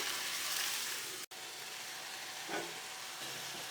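Cauliflower and potato curry (aloo gobi masala) sizzles in a pan over a medium flame, a close, continuous hiss broken by a sudden drop near the middle, with a soft clink later.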